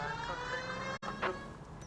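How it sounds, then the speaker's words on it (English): A police car siren wails steadily in the 1940s Los Angeles crime game L.A. Noire, a continuous loud rising-and-falling tone broken by a brief dropout partway through. "if it's a good idea to go there with the siren blaring"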